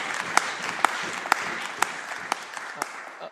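Applause in the Scottish Parliament chamber at Holyrood, a modest patter of clapping punctuated by sharper, regularly spaced claps roughly every half second, steady and moderately close throughout.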